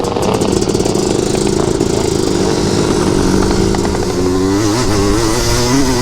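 Many Honda TRX250R ATVs ride together on sand dunes, a loud, continuous two-stroke engine roar with wavering pitch as the machines rev, layered and close throughout.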